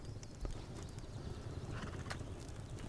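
Horse hooves clip-clop in the survival game Rust, faint irregular thuds of a few horses moving nearby over low ambient wind, with no talking.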